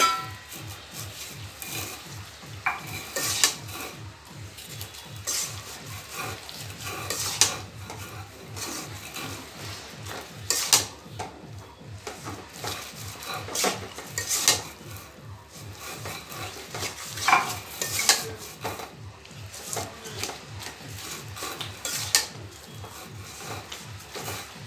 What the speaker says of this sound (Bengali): ভালোভাবে নাড়াচাড়া করে তেঁতুলের গোলাটাকে কিন্তু বের করতে হবে।